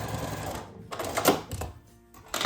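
A sewing machine back tacks across a fabric lanyard in short bursts of rapid mechanical stitching, with brief pauses between runs, close and fairly quiet.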